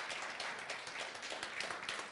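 A church congregation claps in an even, continuous patter of many hands. The applause is fairly faint and steady, with no voices over it.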